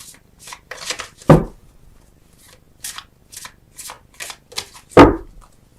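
Tarot cards are shuffled close by in a string of short, crisp riffling bursts, with two louder snapping shuffles standing out among quieter ones and brief pauses between them.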